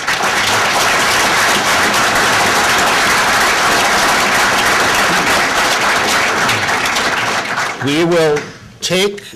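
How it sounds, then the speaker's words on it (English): At a mining bill listening session in Ashland, Wisconsin, an audience gives visiting guests loud, continuous applause for about eight seconds. The clapping then thins and a voice speaks. "I hope that you'll join me in applauding their willingness to be here"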